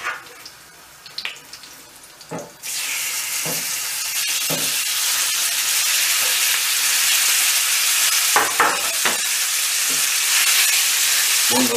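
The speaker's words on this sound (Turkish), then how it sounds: "Bunları da aynı şekilde tuzunu atarak kızartıyoruz" Salted chicken pieces sizzle loudly and steadily in a frying pan, a dense continuous hiss that swells suddenly after a few quieter seconds of kitchen clatter, with occasional sharp pops and scrapes.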